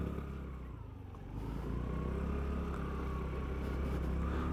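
TVS Jupiter ZX scooter being ridden on the road, a low steady engine drone with rushing noise that grows a little louder after the first second and holds.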